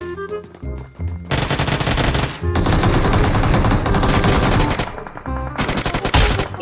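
A UMP submachine gun fires in BGMI, the mobile battle royale game, in several dense bursts of rapid shots. The loud bursts are split by short pauses, and music-like tones sound between them.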